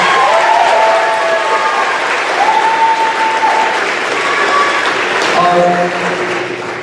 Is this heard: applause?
yes